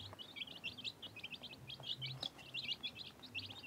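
Three-week-old chicks in a wooden box brooder, cheeping in a quick, high, overlapping chorus at moderate distance, continuous and fairly faint.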